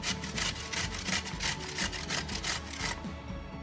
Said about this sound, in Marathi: पडवळ मी किसून घेते।